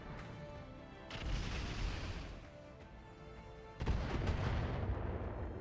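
Mech weapons firing in a RogueTech BattleTech campaign battle: two loud booming volleys, one around a second in and a heavier one near four seconds, each followed by rumbling decay.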